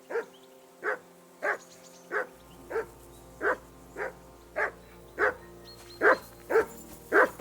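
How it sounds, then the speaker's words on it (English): A dog in the video game Kingdom Come: Deliverance 2 barks in a steady, evenly spaced series of about a dozen clear, mid-loud barks that keeps going alone. "Jesus, Henry, that barking's driving me nuts."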